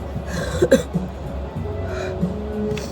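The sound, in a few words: coughing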